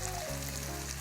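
Spinach pancake frying in perilla oil in a pan, a steady close sizzle and crackle running throughout with a low hum underneath, no voices.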